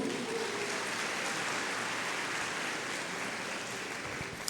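Congregation in a church applauding, a broad steady wash of clapping that holds evenly at moderate level throughout with no talk over it.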